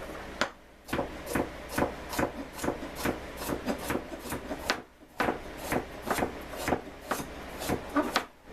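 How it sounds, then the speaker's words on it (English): A knife chops carrots on a cutting board in a steady series of crisp, evenly spaced knocks, close and fairly quiet, with a brief pause partway through. "Now I'm gonna cut up my carrots."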